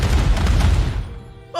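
A fuel dump explodes in the video game Pathway: a loud, deep boom rumbles for about a second, then fades into a quieter tail.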